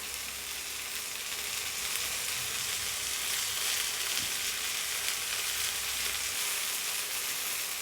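Paneer tikka sizzles in a pan over a low flame, a steady, dense crackle of oil that holds evenly throughout with no voices.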